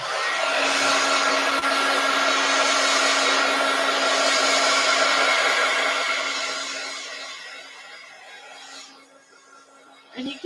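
Hair dryer blowing steadily on black paint on a postcard, a loud continuous whirring blast with a steady hum that fades toward the end, ending with a brief knock.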